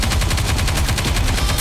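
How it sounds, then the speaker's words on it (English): Rapid automatic gunfire from the video game Goddess of Victory: NIKKE, a loud, continuous stream of tightly spaced shots running the whole time with no voices. "Focus fire! We need to fire straight ahead!"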